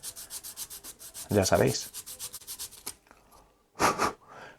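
Rhythmic back-and-forth sanding strokes on a Scaleauto Formula slot car motor cradle, close and steady for about three seconds, with a brief louder burst midway and another after a short pause, while a voice speaks briefly.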